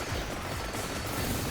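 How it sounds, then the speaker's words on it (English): Dense, continuous crackling bursts of explosions from the evolved Rune Tracer weapon in Vampire Survivors, a rapid overlapping barrage of small pops filling the whole moment at steady volume. "You see all those nice happy little explosions happening all around me."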